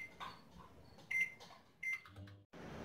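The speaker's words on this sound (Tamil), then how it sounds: "நான் இன்றைக்கி மைக்ரோவேவில் ட்ரை ரோஸ்ட் பண்ண போகிறேன்" A microwave oven runs while white chickpeas dry roast in a microwave vessel, giving a faint, steady hum broken by a couple of short, high electronic beeps.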